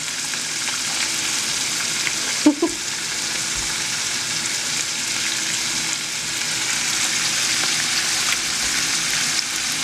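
Squid fries in hot oil in a pan, sizzling and crackling steadily in a dense continuous hiss, with a brief clatter of utensils partway through.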